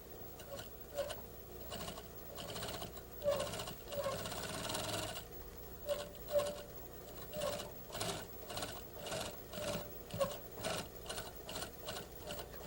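A sewing machine top stitches around the base of an inserted neckline placket, running in quiet rhythmic bursts of rapid needle clatter separated by brief pauses, with a faint mechanical whir throughout.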